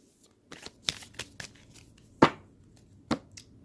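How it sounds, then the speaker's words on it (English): Oracle cards are shuffled up close in quick, crisp riffling bursts and snaps, with soft pauses between, without any talking. "let me get these last shuffles in here on my oracle deck"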